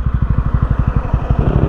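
A 2024 TVS Ronin 225 motorcycle engine thumps in a close, loud, steady rhythmic pulse as the bike makes a U-turn.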